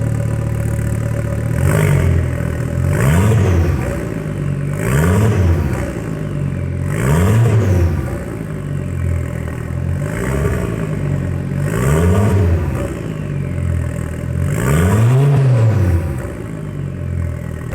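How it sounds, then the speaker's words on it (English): A Ford Focus ST engine is revved repeatedly, about six sharp climbs and falls in pitch, each blip rising from idle to a loud roar and dropping back in a steady rhythm, heard up close with no talking. "let's give this thing a rev before we get this thing on"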